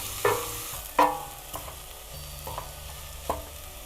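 Red onions frying in a pan for mung bean stew are stirred: a soft, constant sizzle with a handful of sharp utensil taps and scrapes, spaced irregularly and heard up close.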